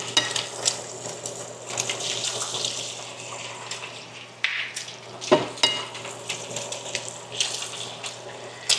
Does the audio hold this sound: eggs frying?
yes